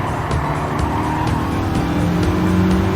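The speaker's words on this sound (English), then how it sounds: "He hits the brakes a little too late" Lamborghini in Gran Turismo 7 during an online race on an Australian track, engine roaring loudly with a drawn-out tire squeal as it brakes hard, and another car's engine droning close behind.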